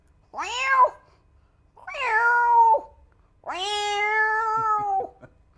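A person imitates a cat with three drawn-out, rising-and-falling meows, the last longest with a few short stutters at its end, loud and close, with no other sound between.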